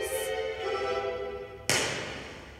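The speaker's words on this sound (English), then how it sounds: "And that sounds like a cannon, even though there's not a real cannon." An orchestral drum strikes a single sudden boom like a cannon shot in the Nutcracker battle music. The hit cuts into a sustained orchestral chord and leaves a short ringing decay.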